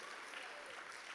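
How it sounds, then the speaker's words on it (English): Brief burst of audience applause at a Jamaican agri-business investment forum, dense steady clapping from a crowd filling the short moment without a break. "Can we have a big round of applause for Debbie Bissoon"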